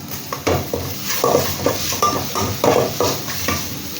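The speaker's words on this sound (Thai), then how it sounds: "เรา คั่วนะ จนมีความหอมกลิ่นหอมของเครื่องเทศออกมานะครับ" Spices dry-roasting in a pan for duck curry, stirred repeatedly: rhythmic scraping and rattling strokes of a utensil against the pan, close and fairly loud, with a light dry crackle and no voices.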